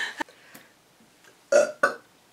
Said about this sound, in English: When I talk a lot, I seriously burp more.